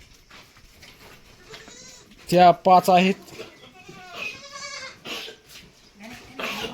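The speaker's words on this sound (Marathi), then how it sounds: "हे बघा आपल्या शेळ्या" Goats in a goat shed give several loud, close bleats in a quick cluster, with people talking before and after.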